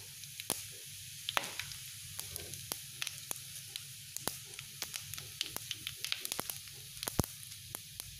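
Fennel seeds crackle and sizzle in hot oil in a pan while cooking an egg curry, a quiet steady hiss peppered with sharp irregular pops and spits.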